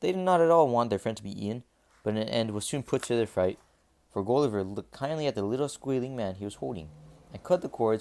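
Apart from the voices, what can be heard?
No everyday noise stands out behind the speech.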